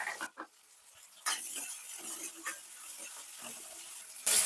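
Finely chopped onions for palak paneer hit a hot pan and are stirred, giving a soft close sizzle with scraping and light utensil clatter in short bursts, no talking.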